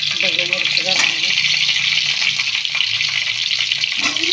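Capsicum is stirred and fried in hot oil, giving a steady, close sizzle with scraping stir sounds, while someone speaks over the cooking.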